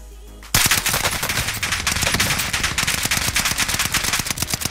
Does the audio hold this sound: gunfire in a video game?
yes